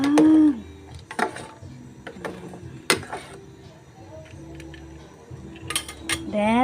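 A spoon stirs sugar into a banana con yelo mixture in a cooking pot, making close metallic clinks and scrapes in irregular bursts, with soft talking in between.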